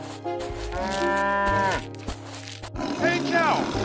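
A cartoon cow on a farm gives loud, drawn-out moos, one long call and then a shorter one, with a brief voice between them.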